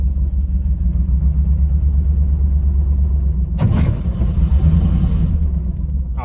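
An old worn-out pickup truck with a faulty alternator is driven, its engine a steady low rumble heard from inside the cab, with a brief rattling clunk partway through; no talking.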